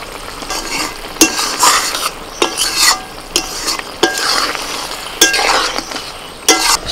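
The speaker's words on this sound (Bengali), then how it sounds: "সস দিয়ে সব সবজিগুলোকে একটুখানি আমি নাড়াচাড়া করে নিয়ে এর মধ্যে দিয়ে দিচ্ছি অল্প করে জল" Vegetables and sauce being stirred in a pan for egg chili, sharp clinks of a spatula against the pan at irregular intervals over a soft sizzle, no talking.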